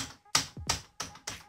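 Four sharp, loud taps in quick succession, each a crisp hard strike of keys hit forcefully on an Everest Rampage KM-R1 mechanical keyboard, with no talking.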